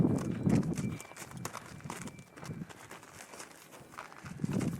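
A horse walks with slow, uneven hoof clip-clops during bridling work, the footfalls moderately close and spaced irregularly against a quiet background.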